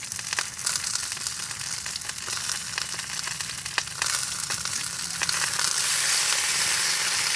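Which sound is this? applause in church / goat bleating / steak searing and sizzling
steak searing and sizzling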